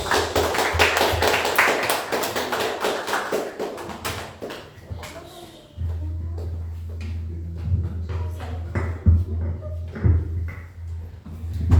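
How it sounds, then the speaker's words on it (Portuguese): Church congregation clapping together at a Thursday family worship service, dense clapping filling the first few seconds, then thinning into scattered claps over a steady low hum. "Salve de palmas ao Senhor Jesus."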